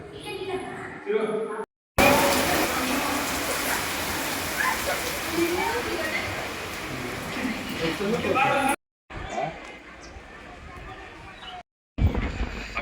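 Steady, dense hiss of heavy rain at a stone temple near the Tungabhadra River fills most of the stretch, with brief gaps and some faint voices at the start and end.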